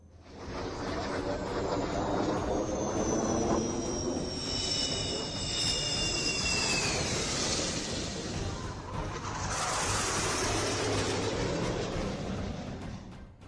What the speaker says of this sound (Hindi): सुखोई और जगुआर जैसे वायुसेना के लड़ाकू विमानों ने अपना दम दिखाया और हाईवे पर